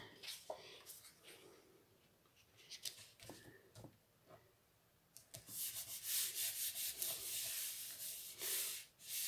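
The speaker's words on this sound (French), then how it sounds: "J'essuie ma colle qui coule" Runny glue, softened by heat, being wiped off a handmade wooden shelf box, with soft scratchy rubbing strokes that start quiet and intermittent, then grow louder and denser in quick bursts toward the end.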